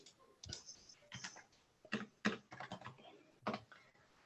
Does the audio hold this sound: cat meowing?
no